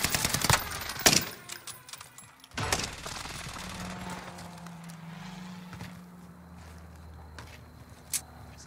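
Bursts of automatic gunfire in the Warzone video game, sharp rapid shots in short volleys early on, then quieter movement and a low hum with a few isolated clicks.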